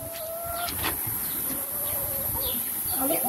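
Chickens cluck and call in a rural Turkish yard, several short clucks and squawks close by over a low background hum.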